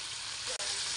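Shrimp fry lightly in a pan with a bright, continuous sizzle, briefly cut by a sharp gap near the middle.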